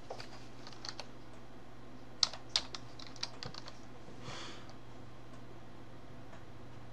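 Someone types an Excel 2013 formula on a computer keyboard, a sparse run of light key clicks with a few sharper taps, quiet and close, no talking.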